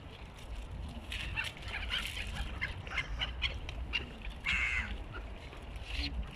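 Seagulls being fed in Ankara's Gençlik Park, giving repeated harsh squawking calls close by, overlapping one another over a constant outdoor rumble.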